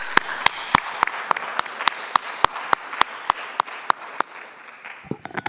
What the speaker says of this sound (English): a big hand of applause for Mary